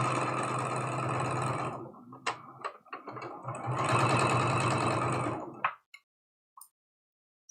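A sewing machine runs loud and close while stitching the seams of a patchwork quilt block, with two steady bursts of rapid needle hum separated by a short pause and ending in a few clicks and then quiet.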